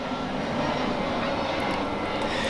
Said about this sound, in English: Just gonna let that aeroplane pass.